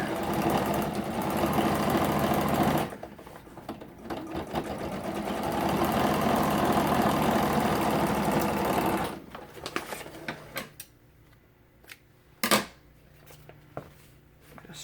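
Sewing machine running steadily as it stitches seams in quilted fabric for a journal cover: a long, even, close mechanical whir that stops and leaves quieter handling sounds.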